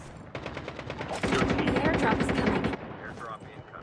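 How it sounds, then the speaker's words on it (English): Rapid bursts of automatic gunfire from a video game, a dense rattling volley that swells louder in the middle then cuts off, with faint background game sounds after. "Just shooting you repeatedly?"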